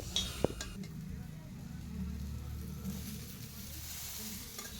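Bitter gourd, onion, green chili and added vegetables fry and get stirred in a pan, a steady close sizzle with scraping stirs and a sharp clink near the start.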